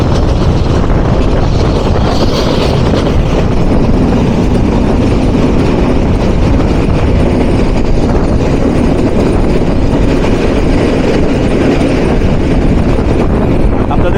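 A train passes through Hitech City railway station, making a loud, steady rumbling roar that runs unbroken from start to finish.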